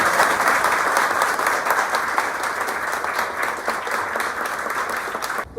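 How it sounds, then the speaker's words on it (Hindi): Dense, sustained applause from an audience welcoming a student at a JEE Advanced success event. It is loud and steady for the whole stretch, with no voices over it. "जोरदार तालियों से स्वागत।"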